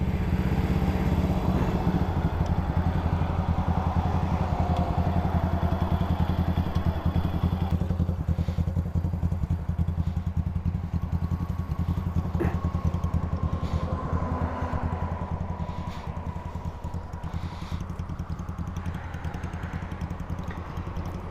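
A Honda CB77 Super Hawk motorcycle engine runs steadily with a low, even rumble and wind noise on the road throughout, loud and continuous, easing slightly toward the end.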